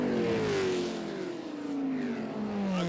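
Race cars roar past at Mosport Speedway in a 1994 race, engines wailing loud and close as their pitch slowly drops through a corner, with a steady high-revving drone throughout.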